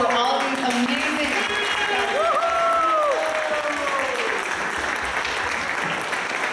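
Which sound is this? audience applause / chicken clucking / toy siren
audience applause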